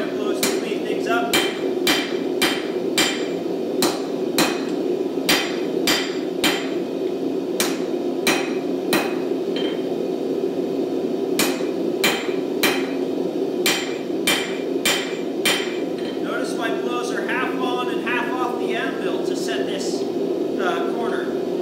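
A hammer strikes a steel chef knife blade being forged, with sharp ringing blows in quick bursts and short pauses over a steady hum of background machinery, close and loud.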